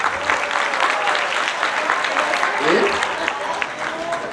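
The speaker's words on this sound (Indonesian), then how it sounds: "Tepuk tangan teman-teman." An audience applauds at a property launch event for a new housing cluster, with steady dense clapping filling the whole stretch and a voice speaking over it now and then.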